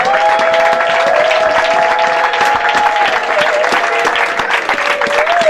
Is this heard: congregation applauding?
yes